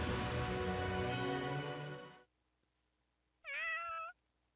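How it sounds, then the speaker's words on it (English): Cats meow in the video game Fire Emblem Three Houses: a dense burst of overlapping sound for about two seconds, a pause, then one clear, rising meow, close and loud. "Cats."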